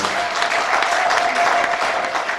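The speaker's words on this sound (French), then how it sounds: "Est-ce qu'on peut applaudir très fort pour l'homme de ce soir?" Wedding guests at a Portland, Maine reception applaud for the groom, Joseph Matondo, a loud, continuous crowd of clapping hands that stays full and even throughout.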